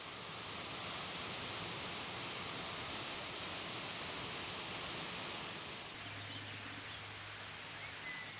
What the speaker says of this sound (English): reappearing suddenly from a cave, the Garb da Fus, in a spectacular waterfall